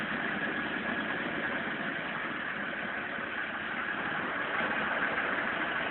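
A 1518 truck's engine drones steadily and loudly, a continuous mid-to-low rumble with no breaks as it drives along a dirt track through puddles toward a river near a eucalyptus cutting site.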